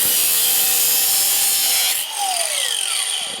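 Handsaw cutting through wood to make lengths for a knife handle, a bright continuous rasping stroke that stops abruptly partway, followed by a short falling tone.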